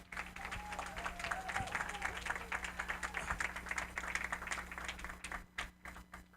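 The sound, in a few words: audience applause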